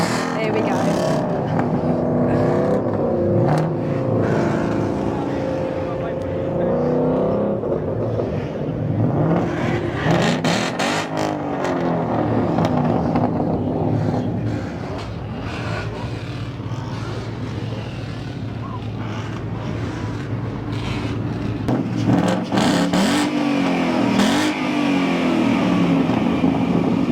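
Several Ford engines rev hard at a vendors' exhaust contest during the Carlisle Ford Nationals, a loud, continuous, rising and falling roar. Voices and crowd noise run underneath throughout.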